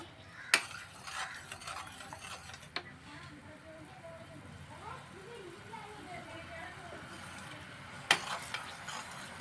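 Sugar syrup for gulab jamun is stirred in a pan over a medium flame, soft faint swirling with a few sharp spoon clinks against the pan, under a person talking.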